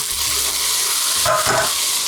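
Sauce poured over browned Brussels sprouts in a hot pan, giving a loud, steady sizzle with bursts of splashing and stirring near the end.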